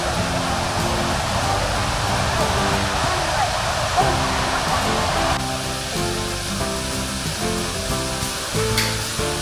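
Thommenkuthu waterfall on a forest trekking trail, a steady broadband rush of falling water running throughout at even loudness.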